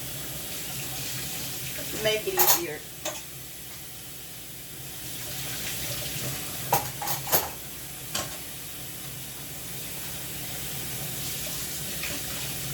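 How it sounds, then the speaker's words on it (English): Tap water runs steadily into a kitchen sink while dishes are washed, with a few brief clinks and clatters of dishware, close by, and a voice speaking briefly. "I'm going to go ahead and finish these dishes"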